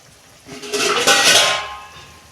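A lid goes onto a pot of frying gaja sweets after the gas is switched off, giving a brief metallic clatter and a rising, then fading hiss lasting about a second and a half.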